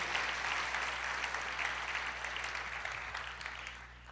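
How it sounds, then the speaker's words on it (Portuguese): A church congregation applauds in a steady, dense burst of many hands clapping, fairly close and full, with a low steady hum underneath as the clapping gradually eases. "Você pode aplaudir ao Senhor por isso"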